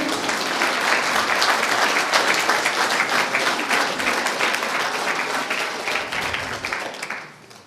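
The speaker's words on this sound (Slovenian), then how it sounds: "Spet dajte jim en aplavz, da so tle, predno gremo naprej." Lecture audience at a Slovenian talk on a father's role in raising teenagers applauds, dense sustained clapping filling the room for about seven seconds before tapering off at the end.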